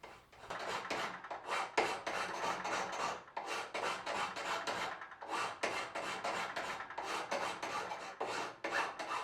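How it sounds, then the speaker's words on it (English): A steel hand file rasps across a knife blank in steady back-and-forth strokes, about twenty close, even scrapes with brief pauses and no voices. "And more filing."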